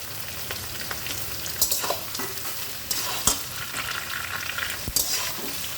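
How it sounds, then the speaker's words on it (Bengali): Chopped onions frying in a pan for methi mutton, a close, steady sizzle with repeated spatula scrapes and stirring knocks at an uneven rhythm, no voices. "যতক্ষণ না পেঁয়াজটা ব্রাউন হচ্ছে ততক্ষণ এটাকে ভেজে নিতে হবে"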